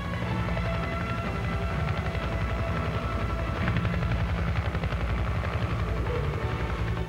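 An attack helicopter's rotor chops in a dense, continuous rhythmic thumping over a heavy engine drone, loud and close throughout.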